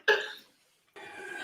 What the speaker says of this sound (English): I just need to clear my throat.